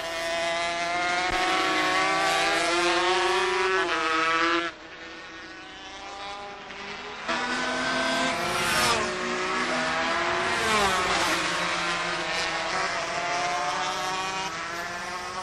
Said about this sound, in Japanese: ワークス2台を抑えて逃げる加陽